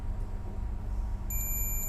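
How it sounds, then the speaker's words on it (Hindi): Continuous high beeping from a digital multimeter's continuity test, playing through a phone speaker, starts partway in and holds steady over a low background hum. "देखो मैंने ये दोनों वायर इन दोनों पे लगा दिया, और ये क्या कर रहा है, बीप साउंड दे रहा है"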